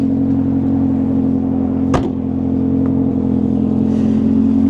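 A square body Chevy truck engine idles at a steady, rough hum, close and unbroken, with one brief sharp clunk partway through and no talking.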